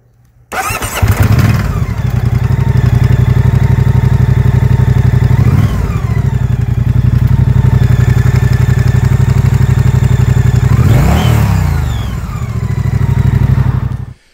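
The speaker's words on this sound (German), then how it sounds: "dass der Steuerkettenspanner rechts ein Geräusch machte, wenn die kalt war und ich sie gestartet habe" A Moto Guzzi Stelvio motorcycle engine cranks and fires up from cold, then idles loudly with a rattly mechanical clatter from a noisy cam chain tensioner, revving briefly a couple of times.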